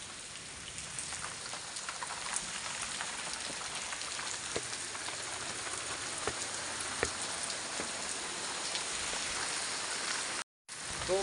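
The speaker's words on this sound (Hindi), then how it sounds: "अब बारिश आ रही है" Rain falling just after a hailstorm in the hills of Gangolihat, a dense steady patter of drops on surfaces with occasional sharper ticks, continuous and close, with a brief dropout near the end.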